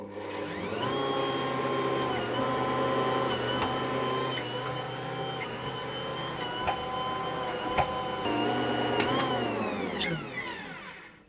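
An Ankarsrum stand mixer kneads breadstick dough with salt being added, giving a steady loud motor hum with harmonic whine and occasional clunks from the bowl, running continuously before winding down at the end.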